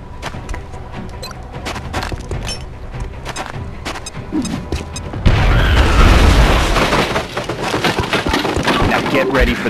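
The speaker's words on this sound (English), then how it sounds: "Now toss your grenade at the enemy in front of you." A grenade explosion in XCOM: Enemy Within on iOS lands as a sudden loud boom partway through. Heavy rumbling noise follows it, after a stretch of clattering game sounds and voices.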